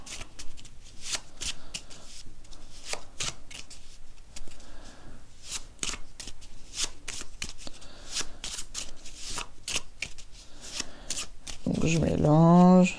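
Playing cards from a small deck shuffled during a magic trick, a run of quick crisp riffling flicks repeated close to the mic, with someone talking over them throughout.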